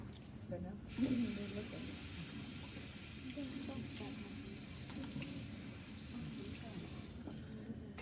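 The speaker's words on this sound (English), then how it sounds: "I'm just gonna rinse it off with clean water." Clean tap water runs in a steady hiss while a saltwater-etched metal piece is rinsed off, a continuous faint spray with small splashes and handling knocks, quiet and close.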